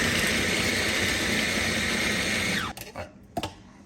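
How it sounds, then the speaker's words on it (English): A small food processor blends onion and unwashed-stem cilantro with a loud, steady high whir that cuts off sharply near the end, followed by a few brief clunks and rattles. "first you have to plug in your little food processor"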